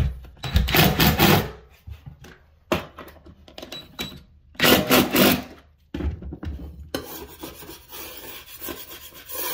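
A screw is driven into cement board underlay over a bathroom floor, heard as close, loud bursts of whirring and rasping in several separate runs with short pauses between them, and a steadier scraping texture toward the end.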